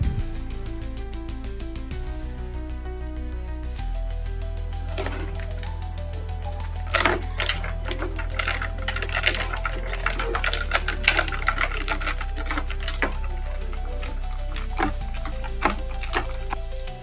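A metal spoon stirs milk into iced coffee in a glass, giving quick repeated clinks and taps against the glass over a low steady hum, with no speech.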